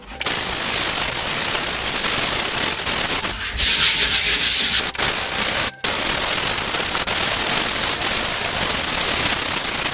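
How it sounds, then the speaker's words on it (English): Steady, loud scratchy rubbing of 120-grit sandpaper against a painted wall, continuous with a few brief breaks in the stroke. "we still need to sand that so the new paint can stick"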